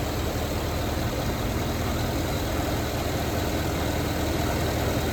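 A 2008 GMC Yukon Denali with the 6.2 V8 runs in a steady, even idle, a continuous low engine hum with no revving, heard close and alone.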